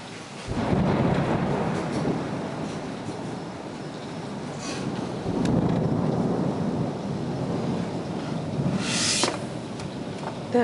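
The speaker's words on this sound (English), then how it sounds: "That was a wicked storm." Rolling thunder rumbles through steady heavy rain, swelling and fading in long waves, with a sharp crack near the end.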